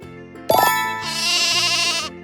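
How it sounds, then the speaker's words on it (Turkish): A lamb gives one loud, close, quavering bleat that holds for over a second over a light musical backing, in a children's animal sound guessing game. "Kuzu."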